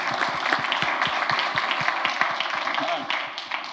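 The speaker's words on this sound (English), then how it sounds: "we can clap for Ann." Audience in a church service clapping for a student minister, a steady close patter of many hands lasting a few seconds under a murmur of voices.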